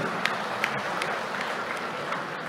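An audience at the Ashoka Janamana 2025 public gathering in Puttur claps in a soft, steady wash of applause, heard from a distance, with a few sharper claps standing out.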